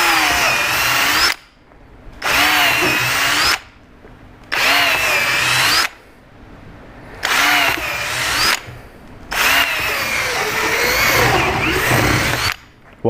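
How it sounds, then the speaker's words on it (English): A power drill bores through old rubber suspension bushes from a Volvo 940 held in a vise, five loud grinding bursts of a few seconds each separated by short pauses, close up. "I reckon I can just mash a drill through"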